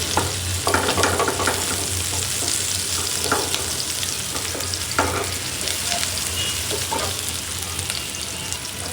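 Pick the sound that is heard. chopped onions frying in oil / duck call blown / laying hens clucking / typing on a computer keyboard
chopped onions frying in oil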